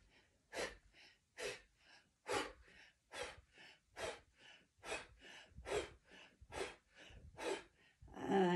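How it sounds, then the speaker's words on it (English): Deep, rhythmic breaths in and out during a seated qigong and yoga fusion exercise, close and fairly quiet, with about a dozen regular cycles of inhaling and exhaling. "inhale into the belly"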